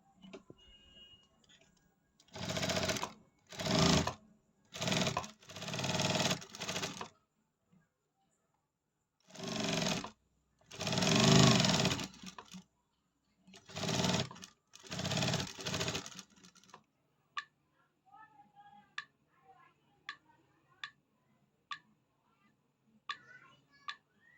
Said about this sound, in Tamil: ஸ்டிச்சிங் போட்டுக்கிறேங்க கேன்வாஸும் இந்த வெட்டின கிளாத்தும் வச்சு